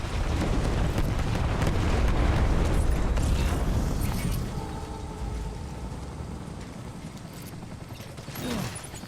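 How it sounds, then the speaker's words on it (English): A rocket launcher blast in Death Stranding gives a loud, rumbling roar with crackling debris for about four seconds, then fades into a quieter, lingering rumble with a small burst near the end. "Gonna hit him with my rocket launcher."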